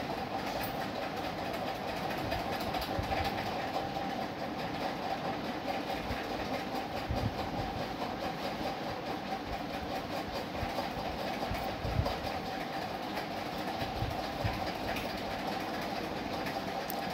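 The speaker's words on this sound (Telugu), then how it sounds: "ట్రైన్ వచ్చింది." A train rumbles steadily through a railway station, a constant loud rolling roar with faint clickety-clack and low mechanical hum lasting the whole stretch, no voices.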